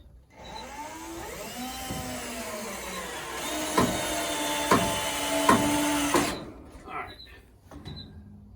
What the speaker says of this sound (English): So go ahead and put some screws in.